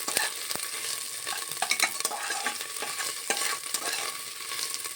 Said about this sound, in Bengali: আর এখানে একটু অল্প একটু হিং গুঁড়ো দিয়ে দিচ্ছি। ভালো করে একটু ভেজে নিচ্ছি।